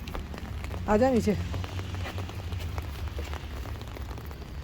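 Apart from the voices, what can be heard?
rain falling outside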